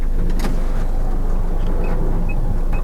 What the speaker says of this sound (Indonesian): Untuk membuka ataupun menutup pintu tengah yang sliding door itu bisa dari sini.